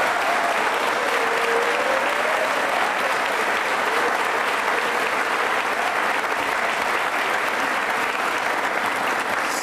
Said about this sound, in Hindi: तालियां बजाइए अपने लिए जोरदार तरीके से